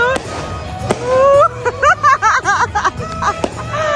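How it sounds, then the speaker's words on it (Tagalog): Fireworks crackle and pop at a Christmas celebration, a few sharp bangs cutting through lively chatter, laughter and whoops from people nearby. "Fireworks!"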